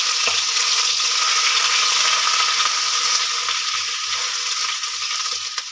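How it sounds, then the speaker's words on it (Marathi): Garlic and ginger paste frying in a pan after cumin, frying to golden brown; a steady, close hissing sizzle runs throughout with faint rhythmic stirring scrapes beneath, no speech. "लसूण अद्रकची पेस्ट गोल्डन ब्राऊन होईपर्यंत चांगली छान तळून द्यायची"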